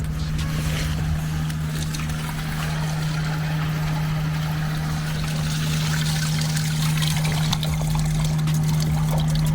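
An RV black tank drains through a dump station hose after the valve is pulled, a steady rushing, gurgling flow with a constant low hum underneath and no talk.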